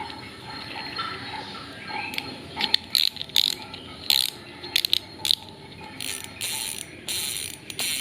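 Fishing reel drag clicker ratcheting loudly after a tweak to its stock parts, bursts of sharp rapid clicks coming in uneven pulls over a steady background hiss, close and alone.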